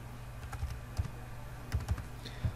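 Keys tapped on a computer keyboard while entering text into a shape in PowerPoint, a loose run of light, uneven clicks with a few sharper strokes, close and alone.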